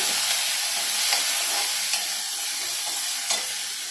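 Green chillies sauté in a hot pan with a steady hiss and sizzle, broken by a few soft stirring scrapes, with no talking.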